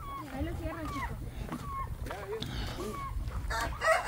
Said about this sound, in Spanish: Aquí están las gallinas y aquí están los pollos.